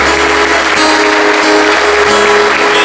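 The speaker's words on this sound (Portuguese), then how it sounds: "Vamos aplaudir ao Senhor Jesus, meu Deus." A church congregation applauds loudly and steadily during a worship service, dense continuous clapping filling the space with a held musical tone underneath.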